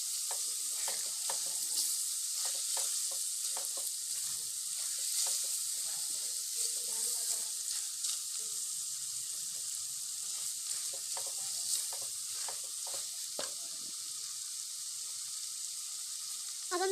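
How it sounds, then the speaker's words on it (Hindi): Green chickpea keema sizzles steadily as it is stirred and sautéed in a pan with a little water, a continuous frying hiss with scattered scraping stir sounds and no talk. "थोड़ा थोड़ा सा पानी ऐड करके भून लेंगे।"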